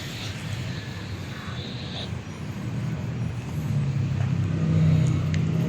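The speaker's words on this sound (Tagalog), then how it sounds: "May sasakyan." A car passes near the entrance to Dolomite Beach in Manila. Its low engine rumble swells gradually and peaks near the end over outdoor background noise, with no clear speech.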